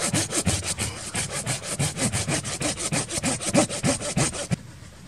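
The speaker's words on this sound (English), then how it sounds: "sawed off some end pieces right there" A hand saw cuts end pieces off wood at a winter campsite in quick, steady back-and-forth strokes, close up, about twenty rasping passes before it suddenly stops.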